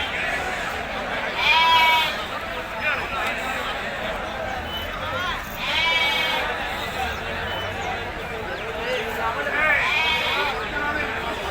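Sheep bleat at a busy sheep and goat market in Ranebennur, three or four loud bleats rising over steady crowd chatter and people talking nearby.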